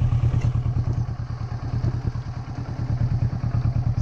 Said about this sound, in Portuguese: Vamos de novo. Mais uma arrancada forte.